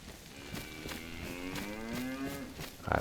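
Cow in the video game DayZ mooing in long drawn-out calls with sliding pitch, fairly close and clear over a steady game ambience, with a sharper noise at the very end.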